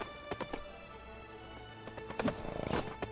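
Rhythmic hoofbeats clatter in quick bursts in the video game King's Quest, growing denser toward the end, over a steady background hum, sounding like a galloping horse.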